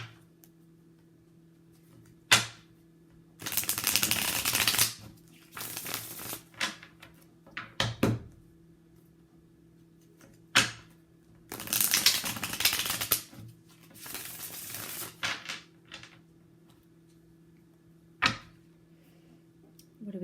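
Tarot cards from a white deck being shuffled in several bursts of papery rustling and fluttering, broken by sharp taps and clicks, close and moderately loud with quiet pauses between.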